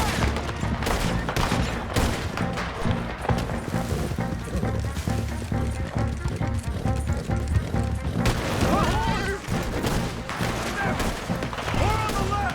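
Dense gunfire from a Red Dead Redemption 2 shootout at Beaver Hollow: continuous volleys of rifle and pistol shots with booms and crashes, loud and close throughout, with shouting voices mixed into the fighting.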